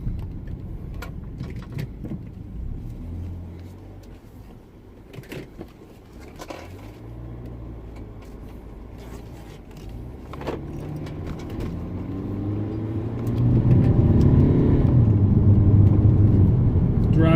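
BMW E60 520d diesel saloon idling, then reversing and pulling away, a low engine rumble that swells into a louder, steadier drone near the end, with a few small clicks and knocks and no speech.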